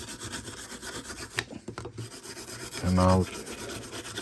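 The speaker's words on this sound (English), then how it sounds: "I'm using a file with some sanding paper to get a perfect straight and flat surface." A 100-year-old Morakniv hunting knife blade is worked flat with a file wrapped in sandpaper, giving close rasping strokes with a short louder grinding burst near the end.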